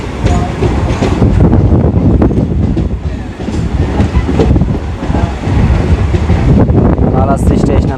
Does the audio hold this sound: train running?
yes